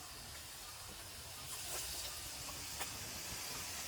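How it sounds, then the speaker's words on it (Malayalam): Soft, continuous sizzle of raw plantain fritters frying in hot oil, with occasional crackles and pops, heard close up. "ഇതിനെല്ലാം നമുക്ക് വറുത്തെടുക്കാം കേട്ടോ"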